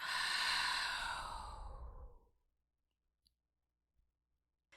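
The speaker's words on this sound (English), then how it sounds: "And that exhale, really push that out." A deep, forceful exhale during a guided breathing exercise, one long breathy rush of air that fades out after about two seconds, followed by near silence with a few faint clicks.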